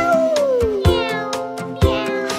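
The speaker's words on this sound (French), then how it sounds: "Le chat dit miaou, miaou," A cat meows close and loud, several tonal cries in a row, the first sliding downward, set against a steady rhythmic plucked accompaniment.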